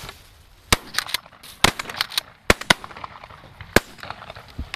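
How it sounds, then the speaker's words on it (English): Several sharp shotgun blasts ring out during an outdoor goose hunt, spaced irregularly over a few seconds with quieter rustling and small clicks between the loud reports. "I want you to shoot at him, okay?"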